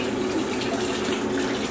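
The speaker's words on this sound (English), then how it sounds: "Let me turn the pump speed up a little bit." A pump pushes chilled homemade beer, a Boo Berry Crunch brew, through a line into a fermenter, giving a steady, close rushing flow of liquid with no break and no voices over it.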